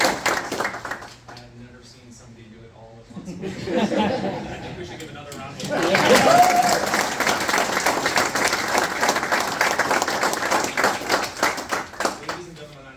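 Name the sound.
audience applause at a US Air Force promotion ceremony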